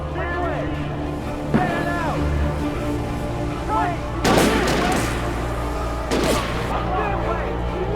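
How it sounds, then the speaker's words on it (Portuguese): Repeated bursts of gunfire crack through a busy Alan Wake Remastered soundscape, with louder volleys near the middle and end while someone talks over it. "tomando tiro de tudo que é lado aqui"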